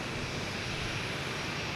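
Lufthansa Airbus A340 jet taking off at Boston Logan Airport, a steady broadband engine roar that fills the whole clip without pause and holds a constant level, with no voices.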